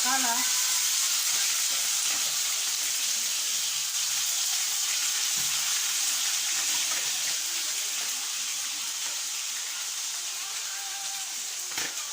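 Small fish fry in hot oil in a pan with a loud, dense, continuous crackling hiss that holds steady for the whole stretch, close up, with a faint clink near the end.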